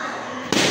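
A balloon bursts during a team balloon-popping party game: a sudden loud, sharp pop cuts through low room noise, followed by a burst of crowd reaction.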